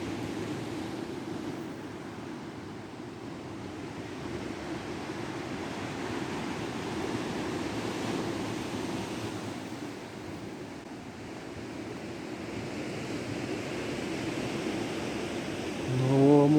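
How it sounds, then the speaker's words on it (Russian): Waves wash in from a stormy sea in a steady, broad rush, mixed with wind buffeting the microphone. A brief voice cuts in at the very end. "О, море какое грозовое"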